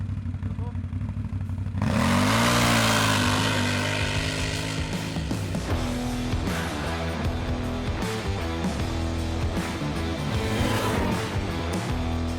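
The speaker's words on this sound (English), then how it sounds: "Standing start, rear-wheel drive, full throttle, let's go!" A BRP Outlander 1000cc ATV launching from a standing start in rear-wheel drive at full throttle: the engine roars up abruptly and stays loud and close, its rising, revving drone running on with gear-like pitch shifts and mechanical clatter.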